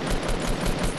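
Rapid automatic gunfire in Fortnite Battle Royale, a loud, dense burst of close-range shots packed tightly together for about a second with no talk.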